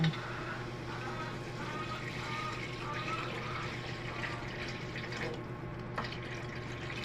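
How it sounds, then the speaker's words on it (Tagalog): Water poured into a cooking pot of chicken with garlic and ginger to make broth, a steady close splashing and trickling that runs the whole time with no pauses. "Lalagyan ko na siya ng tubig."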